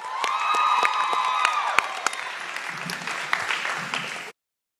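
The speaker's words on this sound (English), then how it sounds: "Let's give one more big round of applause to Caleb." Audience applause with some cheering at a pageant, loud and sustained for about four seconds before cutting off abruptly, with a few whoops rising above the clapping.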